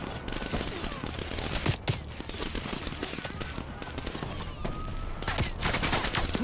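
Enemies in a video game fire from every direction in dense, rapid bursts of gunfire, with sharp repeated shots crowding together and occasional short gaps.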